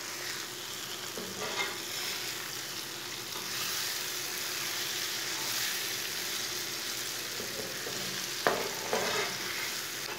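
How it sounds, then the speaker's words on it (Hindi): Two eggs stirred into a frying ridge gourd curry, a continuous soft sizzle with occasional spoon scrapes and a sharper knock near the end, no talk. "2 अंडे डाल लेंगे। अच्छी तरह मिक्स कर लेंगे।"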